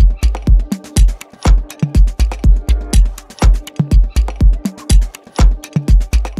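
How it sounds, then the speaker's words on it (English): Percussion loops heavily crushed with Decapitator saturation and RC20 effects thump in a dense, punchy groove, loud and continuous with booming low hits and crisp transients, no voices. "really crush these loops together so they sound like a whole"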